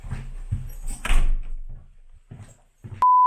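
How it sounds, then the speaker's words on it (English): A house door being shut quickly: a series of rattling, knocking thuds and a louder bang as it swings closed, close by, followed by a few softer knocks. "We're shutting the door quickly."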